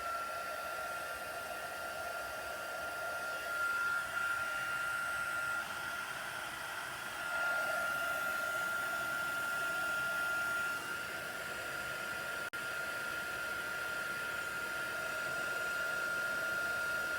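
A heat tool blows hot air steadily over embossing powder on a handmade card, a constant whooshing hiss with a thin whine running through it, close and unbroken throughout.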